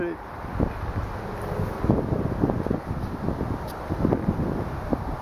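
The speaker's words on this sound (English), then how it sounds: "I know it's windy." Wind blowing outdoors on a breezy day, a steady broadband rush with gusty buffeting against the microphone, continuous throughout and fairly loud.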